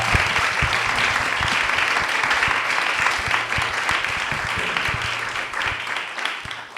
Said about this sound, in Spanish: Les pido un fuerte aplauso para ustedes.